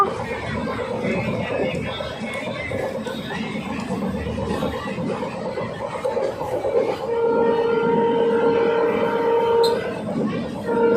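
A train rumbles and rattles past a station, with a horn tone sounding toward the end over the steady roar, and voices talk faintly beneath.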